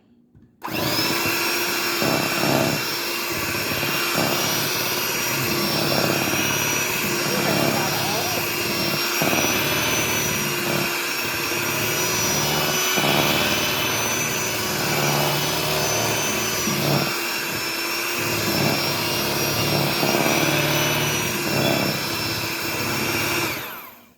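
A loud, continuous whirring motor hum with a high-pitched whine runs steadily for over twenty seconds, close by, from an electric mixer blending cake batter.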